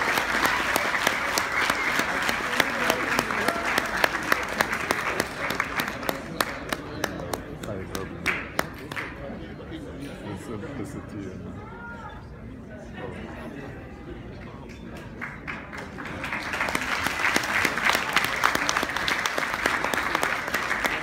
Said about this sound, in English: Big round of applause for the Chinese.